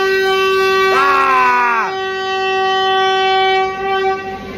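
At an Indian railway station a train horn blares once for about a second, loud and close, with a slightly bending pitch over a constant drone of idling rail machinery.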